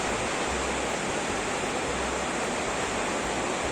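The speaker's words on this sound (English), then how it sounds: "It is raining buckets!" Heavy rain pours down in a dense, steady hiss, close and uniform with no breaks and no voices.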